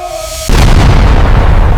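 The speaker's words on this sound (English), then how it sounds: "distant explosions echoed across the ruined city. Artillery fire continued shaking the city" Artillery fire and explosions over a ruined city at night: a heavy, very loud boom rolls in after a brief quieter moment and continues as dense, sustained rumbling.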